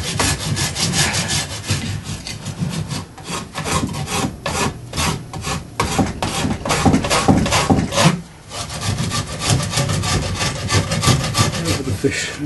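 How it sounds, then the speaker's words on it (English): A chainsaw blade rasps steadily over plum wood as a carved salmon is smoothed, giving continuous loud, close scraping with rhythmic strokes and one short pause midway. "Try and move all of these cuts with the chainsaw blade, get it nice and smooth."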